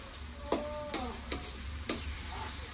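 Pork and tomato sautéing in a pan, a soft steady sizzle broken by four or five clinking spatula scrapes against the metal, quiet and close.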